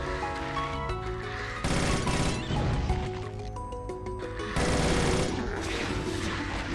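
Dual submachine guns in Doom II fire in sustained rapid bursts, loud and close, with short pauses between volleys and clattering impacts mixed in.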